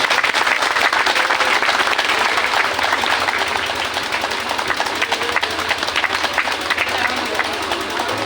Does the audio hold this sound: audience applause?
yes